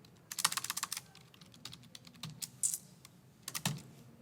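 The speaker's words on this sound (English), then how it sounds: "maybe I'll type that in here" Typing on a computer keyboard at a desk while working a precalculus law of cosines problem: bursts of quick, close key clicks in short clusters with pauses between, no voices.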